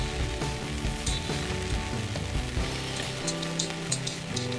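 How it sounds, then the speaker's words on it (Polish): Autumn rain pattering steadily on a riverside while feeder fishing for bream, a dense crackling hiss of drops close by with no voices. "Pada deszcz"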